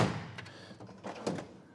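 A sliding kitchen drawer that doubles as a silverware drawer is pushed shut, giving a soft rolling slide and a couple of dull wooden thunks at close range, with no talk.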